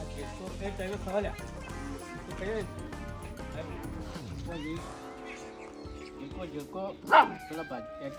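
A dog barks and yips repeatedly nearby while a person talks over it, with one sharp louder bark near the end.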